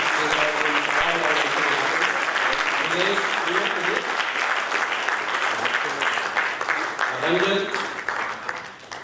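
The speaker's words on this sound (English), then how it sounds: "big round of applause for all of them" A large audience at a conference vote of thanks claps in a loud, sustained round of applause that runs for nearly nine seconds, with voices talking faintly beneath it as it slowly tapers.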